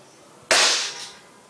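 A single sharp gunshot cracks out loudly at an indoor shooting range, its echo trailing away over about a second.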